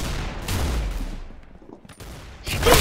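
Bursts of rapid automatic gunfire ring out from an online first-person shooter match, loud and close, with a brief lull in the middle before another heavy volley near the end.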